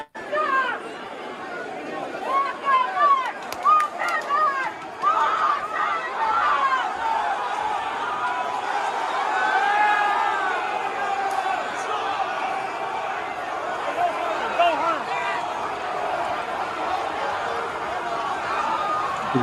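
A large crowd surges and pushes in at the Capitol, a dense mass of overlapping voices, shouts and laughter swelling close and loud, with people talking throughout.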